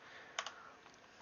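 Computer keyboard typing: a quick pair of sharp keystrokes followed by a faint later tap, close but quiet against a soft hiss.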